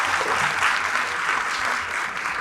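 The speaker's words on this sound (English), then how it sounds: "big round of applause for Usman." An audience at a content-creation talk event for influencers gives a speaker a round of applause: a full, continuous burst of many hands clapping, fairly loud and close, lasting a couple of seconds with no voices.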